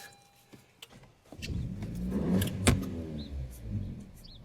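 A Honda Civic with a faulty mass airflow sensor and broken intake pipe catches and runs roughly after starting, a low uneven engine rumble rising to a brief rev, with no talking.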